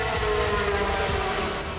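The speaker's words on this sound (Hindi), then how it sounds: "ताइवान में एयर रेड सायरन क्यों गूंज रहे हैं?" An air raid siren sounding in Taiwan, a loud, sustained wailing tone that holds steady for the whole short stretch, alone with no voices over it.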